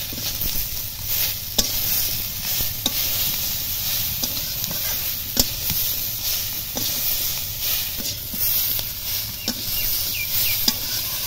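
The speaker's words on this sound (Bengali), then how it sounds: "দিয়ে ভালোভাবে কষিয়ে নেব" Magur fish masala sautéing in a pan, a steady loud sizzle and hiss with frequent scraping strokes of the spatula through the spices, continuous and close, no talk.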